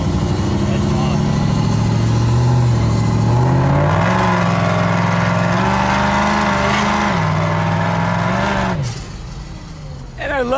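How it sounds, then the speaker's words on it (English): A supercharged Holman truck engine revs hard and loud with a rising, steady roar. The throttle lifts near the end and a short blow-off hiss follows, while people talk over it. "I love hearing that supercharger blow off when you lift it"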